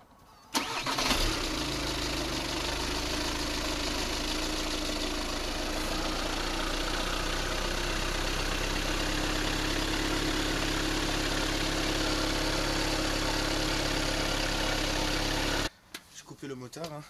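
Audi A3 S line engine after an oil change, cranking and catching, then a steady, loud idle with a low droning rumble that runs for about fifteen seconds before cutting off, with a few faint knocks at the end.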